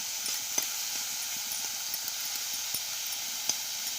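Dried fish (shukhua) fries in a pan with a steady, soft sizzle and hiss throughout, broken by a few faint scrapes and light ticks of stirring, close and quiet with no voices.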